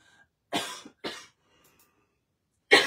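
A woman coughs in three bursts, two close together and then a third after a short pause, near and fairly loud in a quiet room.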